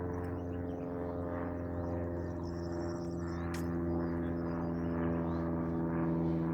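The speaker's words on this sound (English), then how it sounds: "there's a plane going right over me" An airplane passes overhead as a steady, even droning hum with layered engine tones that holds for several seconds, fairly distant and unchanging, with no voices.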